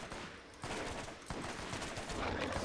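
Rapid bursts of combat rifle gunfire in the video game Borderlands, dense and continuous, coming loud and close.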